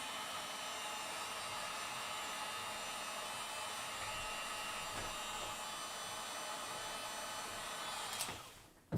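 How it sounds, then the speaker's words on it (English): Hot-air heater blowing steadily on the corners of a shattered iPhone XR back glass, a continuous close whooshing roar held for several seconds and then cut off at the end, with no speech. "Let's see if we use a little bit of heater on these corners."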